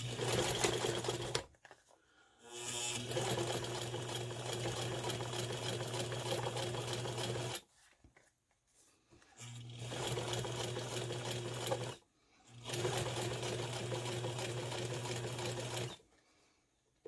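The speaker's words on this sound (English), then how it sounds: "I'm going to top stitch the vinyl down. I'm going to do 1/4 inch." A sewing machine top-stitching vinyl runs in three steady bursts of fast, even whirring stitches, separated by short pauses, heard up close with no talking.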